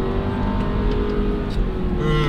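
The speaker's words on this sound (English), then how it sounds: "I'm pretty sure this is a 4-cylinder, judging by the sound" A 2018 Porsche Macan Sport Edition's 4-cylinder turbo engine drones loudly and continuously from inside the vehicle, its pitch rising slightly as it revs under steady road noise.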